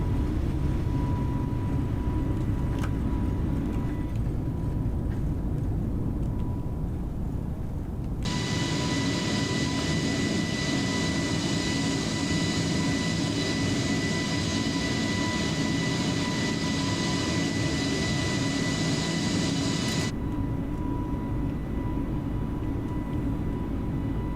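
Airbus A320neo in Microsoft Flight Simulator accelerating down the runway on its takeoff roll, a loud steady jet-engine roar that swells sharply partway through, holds strong, then eases back, with no talking.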